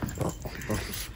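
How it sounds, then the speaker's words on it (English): Two small pet dogs play tug of war with a person, letting out short, close growls and whimpering yips in quick bursts, mixed with the person's own playful growling. "now we're both all growling at each other"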